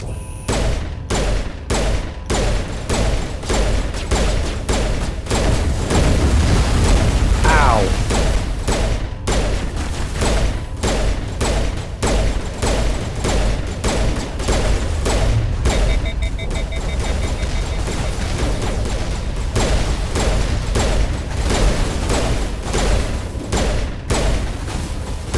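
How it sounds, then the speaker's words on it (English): Dense, loud Mass Effect gunfire during the final showdown with Saren: rapid overlapping volleys and bursts of shots that run nearly nonstop for the whole stretch, with occasional booms mixed in. "We're getting shot at from behind."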